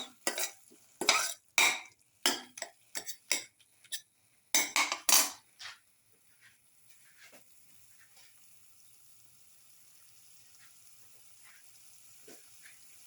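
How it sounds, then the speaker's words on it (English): A spoon clinks and scrapes rhythmically in a pan as a tomato, garlic and coconut milk casserole mixture is stirred with salt, a quick run of sharp taps for about six seconds, then only faint simmering. "Thoroughly salt and mix."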